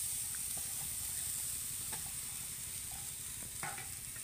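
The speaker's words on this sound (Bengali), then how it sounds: "নারকেলটা একটু নেড়ে দেব।" Grated coconut stirred in a hot wok, giving a steady close sizzle with soft scraping stir sounds throughout and no talking.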